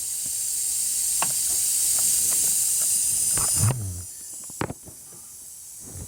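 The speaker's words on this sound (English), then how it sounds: "It's leaking right out of the compressor." Refrigerant hisses loudly and steadily from a leaking AC compressor on a 2004 Cadillac Escalade while it is pressurized, then cuts off, leaving a few quiet clicks and knocks.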